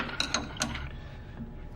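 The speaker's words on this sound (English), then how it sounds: "you're pushing the wrench towards you" A wrench works the arbor nut on a table saw blade, giving a few quick metallic clicks and ratcheting taps close by, then fading to quiet room noise.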